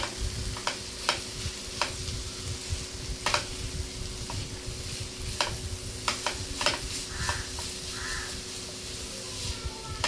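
Ginger paste being stirred into onions frying in oil for a village-style dry fish curry, with a steady sizzle and scattered scraping clicks of the spoon, while crows caw faintly in the background.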